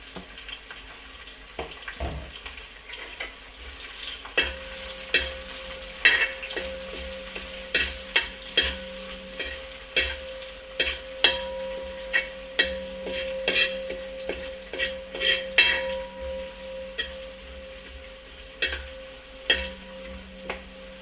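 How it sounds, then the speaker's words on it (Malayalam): Curry leaves fry with beef in a pan, a steady sizzle under repeated scraping and clanking strokes of stirring that run throughout, with faint tap-water sounds now and then and no talk. "ഇനി ഇതിലേക്ക് കുറച്ചധികം കറിവേപ്പിലയും കൂടി വറുത്ത് കോരിയെടുക്കാം"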